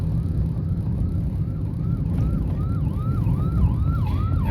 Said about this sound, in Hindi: एम्बुलेंस को रास्ता दे भाई।